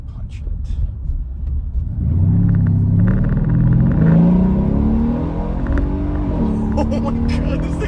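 A Mercedes SL550 R231 with its exhaust cutouts open launches hard after a speed bump, a deep loud rumble swelling into a rising roar through the gears, heard from inside the car with occupants talking over it.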